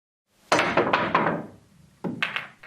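A billiard cue ball is jumped into an object ball, giving a quick sequence of sharp clacks and thuds as the balls strike and bounce on the table, then a second short cluster of hits, close and clear with no talk.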